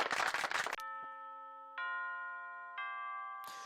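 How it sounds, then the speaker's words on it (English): A school bell in a visual novel video game rings a clear multi-tone chime after a burst of applause, with three sustained bell strikes spaced about a second apart and ringing on, followed by more clapping. "With the ring of the bell signaling the end of homeroom"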